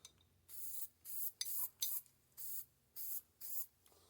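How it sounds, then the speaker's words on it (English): Short bursts from an aerosol spray paint can coating a metal trap, about six hissing blasts in a steady rhythm with brief pauses between them, close and clear with no talking. "I'm going to grab another one out of my bucket and just spray paint it"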